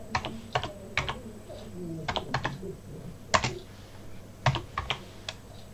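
Scattered clicks of typing on a computer keyboard, irregular bursts of keystrokes with pauses, fairly quiet and close.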